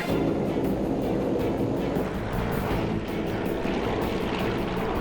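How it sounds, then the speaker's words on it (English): A propeller airplane does a touch-and-go on a runway, with a loud, continuous engine and propeller roar and rushing wind throughout, steady and close. "a touch and go, banging the wheels down on the runway and immediately ascending back into the air"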